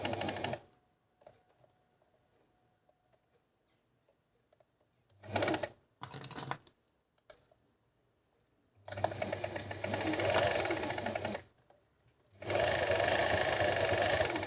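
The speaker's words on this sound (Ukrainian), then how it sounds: "Потім же ж тут включаємо намотку і нажимаємо на педальку." Singer-Beckmann sewing machine winding a bobbin with the foot pedal pressed, short bursts of whirring motor then two longer sustained runs separated by quiet pauses, close and clear.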